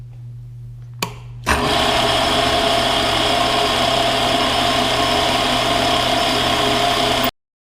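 Power drill boring into a vee jaw: a low hum, then a sharp click, and at about one and a half seconds a loud steady whine that runs evenly for about six seconds before cutting off abruptly.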